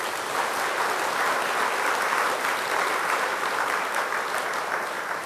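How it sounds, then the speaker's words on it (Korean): A seated audience at a Buddhist dharma talk applauds a monk, a dense, steady round of clapping that holds at even strength throughout with no voices over it. "한번 크게 박수 보내주세요."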